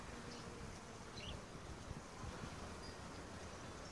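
Bees buzz around flowers in a faint, steady outdoor hum that carries on without a break over soft background noise.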